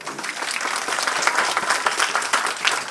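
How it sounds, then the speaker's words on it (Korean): Audience applause in a university tutoring presentation room, a dense, fairly loud burst of many people clapping, crisp individual claps standing out in the steady patter, with no speech. "박수 한번 부탁드려도 괜찮을까요?"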